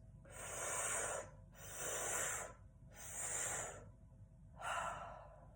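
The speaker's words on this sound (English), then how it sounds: "The next one, breathing in through pursed lips." Four slow, deliberate inhalations drawn in through pursed lips, each a soft airy hiss lasting about a second with short pauses between, close and fairly quiet, with no talking.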